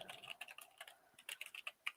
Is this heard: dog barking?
no